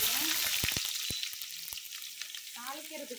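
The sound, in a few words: onions frying in a pan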